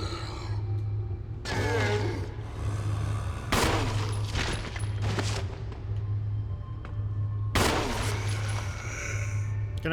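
Gunshots go off in Resident Evil in several sharp bursts spread across the stretch, separated by quieter gaps with a steady low hum and mechanical creaks beneath.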